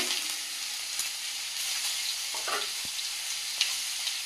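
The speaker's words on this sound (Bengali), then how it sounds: "এদিকে কড়াই তেল দিয়ে দিয়েছি দিয়ে দেবো পাঁচ ফোড়ন তেজপাতা" Panch phoron and bay leaves sizzle in hot oil in a wok, a steady close frying hiss with a few small pops and crackles throughout.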